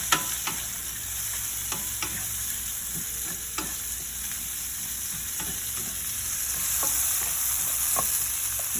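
Chicken browns in hot oil in a pan, giving a constant dense sizzle with scattered sharp pops and utensil taps throughout, without any voices.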